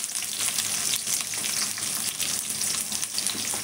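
A small onion frying in a pan for capsicum curry, a close, steady crackling sizzle with light stirring and no voices.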